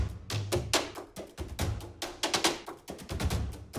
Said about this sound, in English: We've got some big percussion.